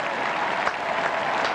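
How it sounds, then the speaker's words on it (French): A large stadium crowd claps continuously at the 1992 Albertville Winter Olympics closing ceremony, a dense, even roar of applause heard from a distance. "Et Nelson Payou, de la cabine de commentateurs, applaudit le président"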